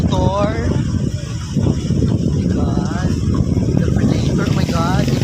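A motorcycle engine rumbles and passes nearby outdoors, a low continuous drone beneath several voices chattering loudly over it.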